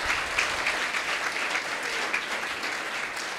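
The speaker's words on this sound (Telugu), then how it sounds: "మరొకసారి క్లాప్స్ కొడదాం." Audience applause fills a college freshers day celebration at NRI Degree College in Tenali, a dense, even clapping from a crowd that holds steady throughout without any voices.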